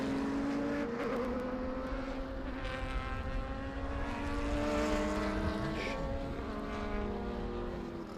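A prototype race car engine drones loudly and continuously, its pitch sliding as it goes by at Laguna Seca, with other engines whining behind it and no speech.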